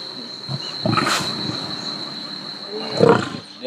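Deep, low rumbling roars from a lion at a wildlife reserve in Senegal, heard in two bursts, one early and one near the end, with faint background noise and insect hum between them.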